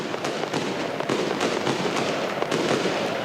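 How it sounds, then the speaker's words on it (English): Fireworks crackle and pop in a dense, continuous barrage behind a stadium stand after a Nations League football match between Montenegro and Wales, heard from a distance with irregular sharper bangs. "It's fireworks, yeah. I can see them going off behind the main there stand."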